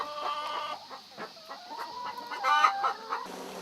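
Chickens on a small organic farm keeping about 200 hens, clucking and cackling in bursts with a rooster crowing, close and fairly loud with no talk over them.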